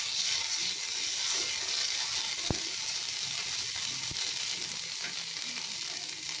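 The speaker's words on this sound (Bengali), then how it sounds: "এই চিড়বির করছে" A small amount of ginger paste sizzles steadily in hot oil as the base for a Bengali doodh katla fish curry, with continuous bright frying crackle and a couple of sharp clicks partway through.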